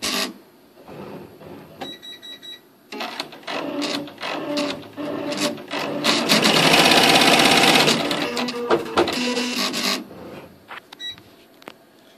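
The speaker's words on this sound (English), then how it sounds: "Now I'm going to run the next stitch." An embroidery sewing machine stitches a stocking held in the hoop, a fast mechanical whirring and tapping that starts and stops in runs, loudest in a long sustained burst midway, with no talking.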